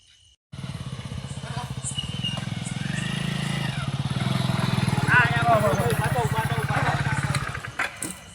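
A motorcycle engine putters steadily and grows louder as it arrives, running for several seconds before cutting out near the end, with people talking over it.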